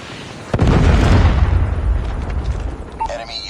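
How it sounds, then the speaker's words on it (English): A Predator missile strike in the mobile shooter Call of Duty Mobile, a sudden heavy boom followed by a long rumbling roar that slowly fades, loud and close, with game sounds at the end. "Predator missile inbound."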